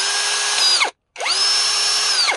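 A 16.8V/18V cordless electric screwdriver, converted from a quick-release bit holder to a drill chuck, whines at high speed in two close, loud bursts separated by a brief pause.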